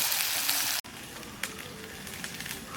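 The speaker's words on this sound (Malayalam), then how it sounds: "ചെറിയുള്ളി ചെറുതായിട്ട് അരിഞ്ഞും കൂടി അതിലിട്ട എന്നിട്ടൊന്ന് വഴറ്റിയെടുക്കാം നമ്മൾ" Ginger, chili, garlic and chopped shallots sautéing in a pan for dal curry, a close steady sizzle with a brief break and a sharp stir before the frying hiss resumes.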